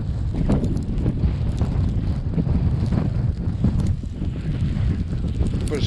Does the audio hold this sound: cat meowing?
no